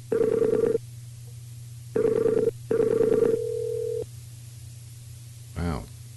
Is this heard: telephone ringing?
yes